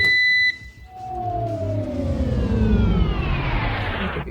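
A toaster's high electronic beeping tone repeats briefly at the start, then stops, followed by a rising hum and clatter of an appliance running nearby.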